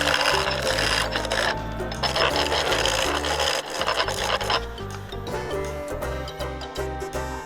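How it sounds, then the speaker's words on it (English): A skew chisel roughs down a spinning wooden blank on a lathe, a loud continuous scraping rasp over the steady low hum of the machine, with the cut briefly easing off partway through before resuming. "take 2, roughing again with the skew"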